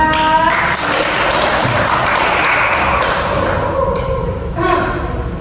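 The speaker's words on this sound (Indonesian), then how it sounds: "tepuk tangan untuk kita" A classroom audience claps in a short, dense burst of applause with a few thuds, while a voice carries on over it.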